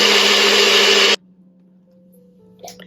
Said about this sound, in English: Now I'm going to put it in a blender and mix them again.